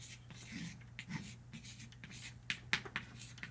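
A pen scratches across paper in short, quiet strokes, finishing with a few sharper, louder marks near the end, all set against a faint low hum.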